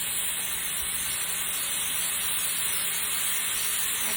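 Pineapple juice poured into a very hot pan, making a loud, continuous broadband hiss of sizzling and steam that holds steady throughout, with no voices.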